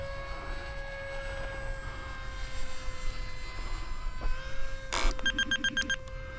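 An FF-35V2 drone with a six-inch prop and F40 motor flies, its motor whining steadily at a fairly close distance, rising and falling slightly, followed by a short burst of electronic beeping tones near the end.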